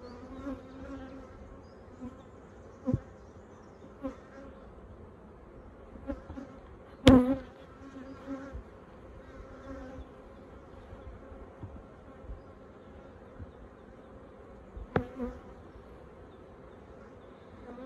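Honey bees buzz steadily at a Flow Hive 2 in Orara Valley, a soft close drone with a few sharp knocks from the hive.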